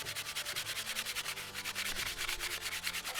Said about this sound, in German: Da muss man aufpassen, ein bisschen rüberschmirgeln